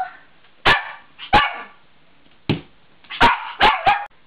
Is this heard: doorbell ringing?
no